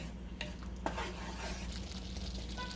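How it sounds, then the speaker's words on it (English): Methi matar malai, a fenugreek and peas curry, simmers in a pan with a soft, low sizzle and a few faint clicks of a utensil against the pan, close and quiet. "So now I'm just gonna let it simmer for around 10 to 15 minutes"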